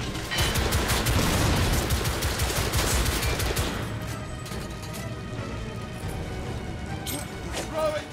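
Rapid gunfire in The Order 1886 aimed at a big enemy, dense sharp shots rattling loudly for about four seconds, then thinning to scattered shots under a voice.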